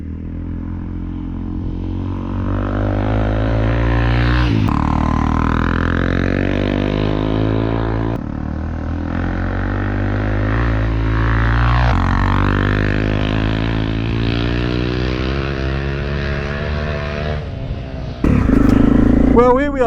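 A Honda CRF 250 Rally motorcycle drones loud and close while riding down a lane, its single-cylinder engine humming steadily with gear changes and rises in revs, wind buffeting near the end.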